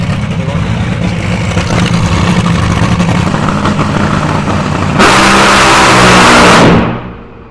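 A Top Fuel dragster under test at Santa Pod Raceway rumbles loudly and steadily, then bursts into a harsher, roaring blast for a couple of seconds before cutting off sharply into silence.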